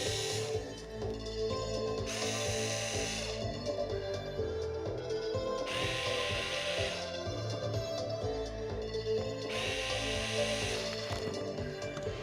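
Power drill whirring in three bursts during a repair job, spaced a couple of seconds apart over steady background noise, with no talk.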